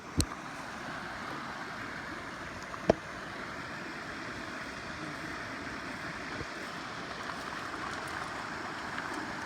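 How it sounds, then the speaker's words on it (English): A small creek rolls along a hiking trail near a man-made lake, a steady, soft rushing wash of water with no talk and one sharp knock partway through. "This little river just kind of, or creek kind of rolls through here."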